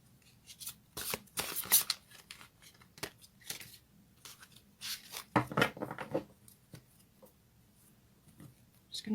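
A deck of fairy tarot cards is shuffled by hand in close, quiet bursts of riffling and flicking, separated by short pauses.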